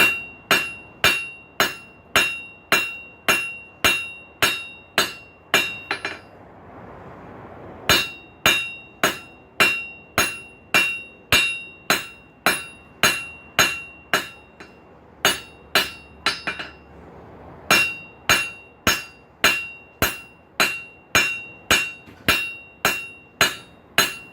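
Hammer blows ring out on hot steel while a paddle bit is forged, sharp metallic strikes in fast regular bursts with two brief pauses, close and loud with no talking.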